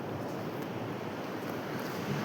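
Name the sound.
sea waves at sea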